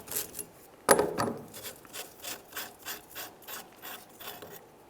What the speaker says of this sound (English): continue on with a 1-inch socket, turn this counterclockwise to remove it